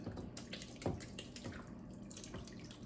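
Liquid poured into old-school macaroni and cheese, a soft steady splashing and trickling with small drips, close and fairly quiet.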